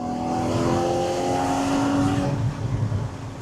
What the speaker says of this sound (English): This is an engine that you can wind out.